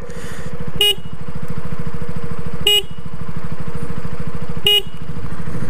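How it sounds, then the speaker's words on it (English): Three short, sharp horn honks spaced about two seconds apart, loud over a steady idling engine. "I'm going to stop here and honk 3 times so I can align both cameras."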